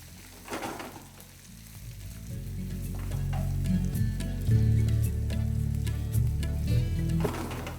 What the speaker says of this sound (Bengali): তারপর হাই ফ্লেমে এটাকে ভালো করে আমি ভেজে নেব।